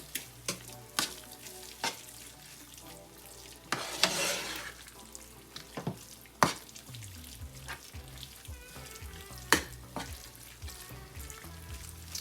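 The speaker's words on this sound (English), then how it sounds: "we got to keep stirring this until it's well combined." Spoon stirring a cup of sharp cheddar into a casserole mixture: irregular scraping and clacking against the pot, with a few louder knocks and a brief wetter swish, close and moderate with no voices.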